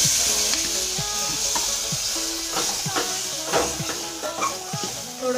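Drumsticks drop into hot spiced oil and set off a loud, continuous sizzle and frying hiss, with scattered crackles and a stirring scrape close by, no talking.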